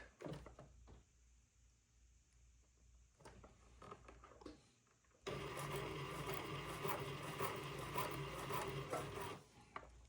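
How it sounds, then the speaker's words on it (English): A sewing machine stitching a cuff seam at a one-eighth-inch allowance, starting with quiet handling and fabric rustles, then a loud, steady mechanical whir of continuous stitching for about four seconds before stopping, close by. "I'm going to sew at 1/8 of an inch seam allowance"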